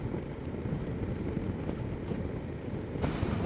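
Wind buffeting a KTM 1290 Adventure S motorcycle fitted with boxes at speed on a gusty road, a steady roaring rumble of wind noise that swells louder near the end.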